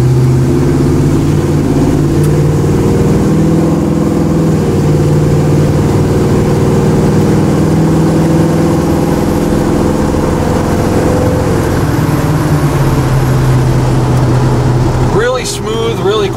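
A 1985 GMC C/K 1500 regular cab 2WD pickup truck accelerates, its engine droning loud and steady from inside the cab, the pitch gradually shifting as speed builds.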